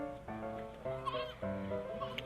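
A goat bleats over and over in a fairy tale for children. The long, wavering, nasal cries come close and loud, several in a row with short breaks between them.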